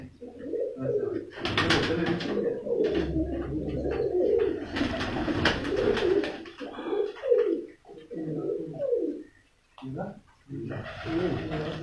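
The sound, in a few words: shy (sharmila) pigeons cooing on rooftop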